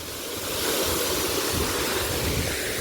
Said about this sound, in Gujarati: પાણી ઉડે છે ને એટલે